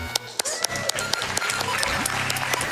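An audience applauds at a live Zelda: The Minish Cap speedrun during the SGDQ 2019 charity marathon, with sharp claps scattered through a crowd wash while a host talks over it.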